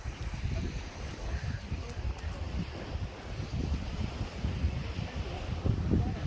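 Strong wind buffets the microphone at an English seaside while waves roll in, a steady, dense roar with low gusty rumbles that swell slightly toward the end.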